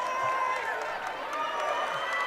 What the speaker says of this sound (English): if you can hear the crowd, that is the Dubois side as they walk out on the court.